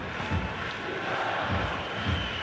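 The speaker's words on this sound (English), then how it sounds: "The stadium is full of noise and energy." Stadium crowd noise from a football video game on PS5, a steady roaring wash of fans with swelling chants rising and falling throughout, loud and continuous with no clear talk.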